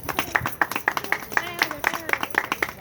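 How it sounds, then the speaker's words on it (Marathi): An audience claps in unison at an Independence Day ceremony at a preschool in Latur. The claps are sharp and evenly spaced, about four a second, close and clear, with voices murmuring underneath. "टाळ्या म्हणून टाळ्या वाजवा."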